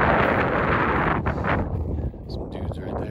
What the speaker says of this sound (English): hopefully you can hear me with the wind